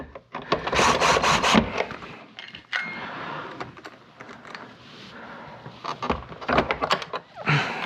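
A Kenmore Progressive bagless upright vacuum, model 116.36932, being worked on for repair gives off rough, woody creaking and rubbing, close and fairly loud. A burst opens the sequence, scratchy friction follows, and a cluster of sharp scrapes closes it.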